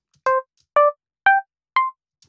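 Four evenly spaced plucked notes from a physical modeling synth emulating a guitar, each a short bright twang decaying quickly, with silence between them.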